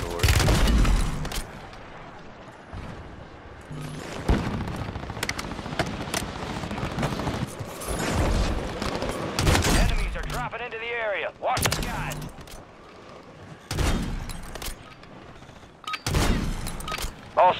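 Gunfire in the video game Call of Duty Warzone 2 on Rebirth Island comes as repeated loud bursts of shots and rapid volleys with booming impacts. A player talks between and over the bursts.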